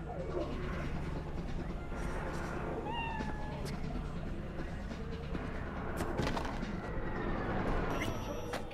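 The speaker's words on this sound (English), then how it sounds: "I thought I heard a cat meowing" A cat meows faintly a couple of times in the Cyberpunk 2077 game world, a thin call buried under a dense, steady city ambience of traffic rumble and mechanical noise.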